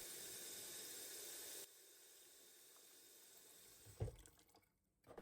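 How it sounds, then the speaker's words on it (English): Hot water running from a kitchen tap into a container, a steady rushing hiss that drops to a quieter stream midway, followed by a brief clunk and splash near the end. "I'm gonna use hot water straight from the tap."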